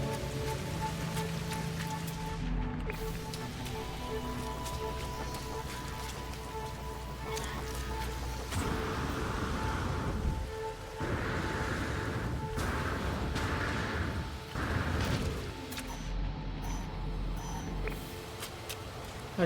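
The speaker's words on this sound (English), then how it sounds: "Ooh, it's raining." Rain falls in No Man's Sky as a soft, continuous patter layered over a steady electronic hum and tones, with heavier bursts of noise swelling in the middle before easing off.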